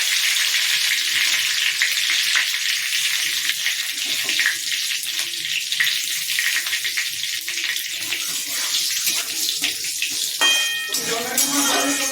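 Bay leaf, dried chilli and cumin frying in hot oil, a loud, steady crackling sizzle with sharp spitting pops, a brief clink near the end.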